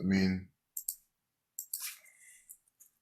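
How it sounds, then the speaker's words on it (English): Computer keyboard typing comes after a brief burst of voice: a few scattered, crisp key clicks in irregular short clusters against near silence. "I'll just type it out."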